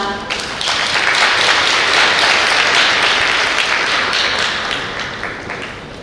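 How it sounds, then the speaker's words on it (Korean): An audience at a forum in South Korea claps steadily for several seconds, dense applause swelling quickly then gradually tapering off. "여러분의 큰 박수 함께 모시겠습니다"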